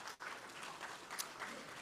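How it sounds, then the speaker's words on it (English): An audience applauds to welcome a panel at a peace and security summit, a fairly faint, continuous wash of clapping heard from a distance in a large hall, with no voices over it. "Please help me in welcoming the panel again with a round of applause."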